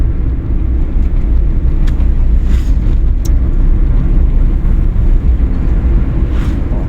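Car engine during a driving lesson, pulling in fourth gear while the accelerator is pressed: a loud, steady low roar with road rumble filling the cabin, unbroken and without talk.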